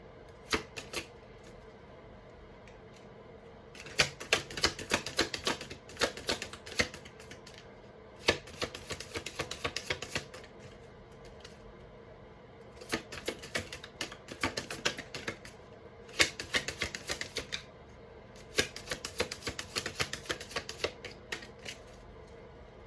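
Tarot cards shuffled in several bursts of rapid riffling and flicking, each lasting a few seconds with short pauses between, close and fairly quiet.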